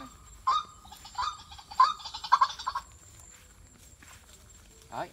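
Waterhen call played through a loudspeaker as a lure beside a trap net, a series of short, bright repeated notes that come in quick clusters at moderate volume, then fade to a quiet background.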